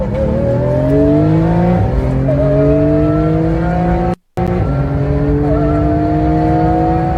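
Porsche GT2 and Lamborghini SVJ supercars racing side by side, engines roaring loudly and steadily as they accelerate, the pitch climbing through several gear shifts with a brief cut near the end.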